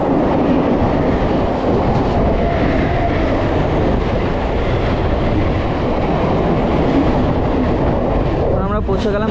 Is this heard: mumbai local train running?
yes